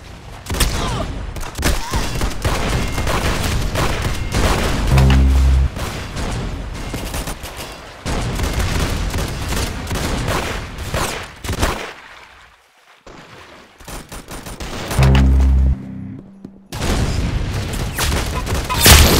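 Gunfire in a first-person shooter game comes in dense, loud bursts of rapid shots with booming impacts, broken by short lulls and a near-silent gap.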